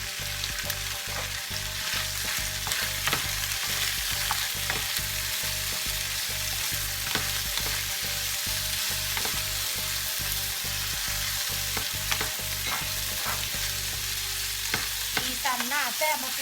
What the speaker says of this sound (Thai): ใส่เครื่องทั้งหมดลงเลยพร้อมกันไปพัดนี่กันไปเลย